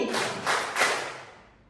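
Three crisp hand claps from a group in a school classroom drill, spaced about a third of a second apart, near and fairly loud, followed by a fading echo and no voices.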